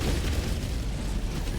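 Strafing-run airstrike explosions in the video game Helldivers, a dense, loud rumble of overlapping booms that carries on steadily for the whole stretch, with no voices.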